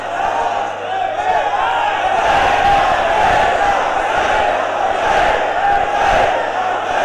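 A large crowd of Urdu- and Punjabi-speaking worshippers shouts a religious slogan in unison, loud and sustained, with voices rising and falling together in a rhythmic chant.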